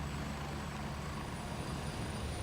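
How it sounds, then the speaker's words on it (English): A helicopter in the video game Gray Zone Warfare drones with a steady, loud broadband rotor and engine roar that holds constant throughout, with no talk over it. "So you hear this helicopter, how loud it is, the closer it gets."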